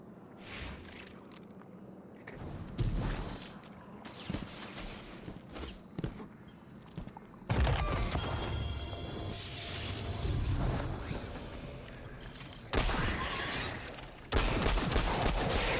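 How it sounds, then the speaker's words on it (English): Bursts of rapid scout rifle fire in Destiny 2 come in loud clusters, broken by short lulls with footsteps and clatter, dense and close. "gunfire's fast for a scout."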